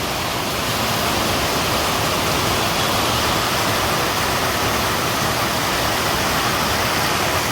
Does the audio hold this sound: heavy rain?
yes